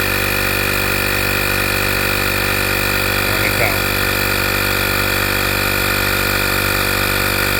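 An AstroAI digital tire inflator runs steadily, pumping air into a flat tire with a constant droning motor hum that holds for the whole stretch.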